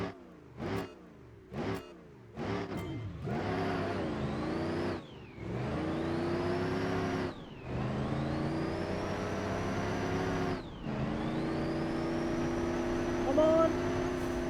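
A diesel car accelerates hard through several gear changes on a speed run, its engine note rising steeply and dropping at each shift, loud and close, with brief revs at the start.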